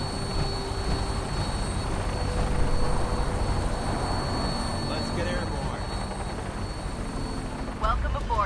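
Vertibird helicopter spooling up for takeoff in the Fallout 4 video game, a dense, steady rotor-and-engine roar that swells slightly, with voices talking over it.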